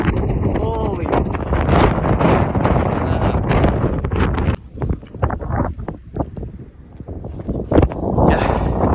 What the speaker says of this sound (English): winds are 40 gusting up to 50